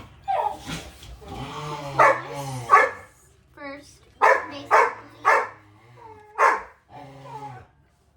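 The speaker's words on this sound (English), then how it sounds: "Our dogs. They're fighting about something." Pet dogs scuffle and play-fight at home, letting out a run of sharp barks, yips and whimpers in bursts close by, mixed with brief human speech.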